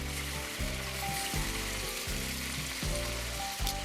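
Chicken leg quarters sizzle and fry in their pan juices inside a Gozney pizza oven, a steady close crackle with rhythmic low pulsing bursts underneath, no voices.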